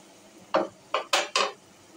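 A utensil scrapes and knocks against a pan while cooking masala for a paneer curry is stirred, giving four short distinct strokes close by in a quiet kitchen.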